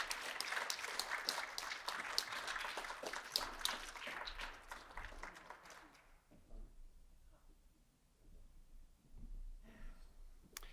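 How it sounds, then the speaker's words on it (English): Steady applause from a crowd at a college oratorical competition award fills the first several seconds, then fades out, leaving a quieter room with a few scattered sounds. "One more round of applause for our Bailey Award winner, Jules Slater."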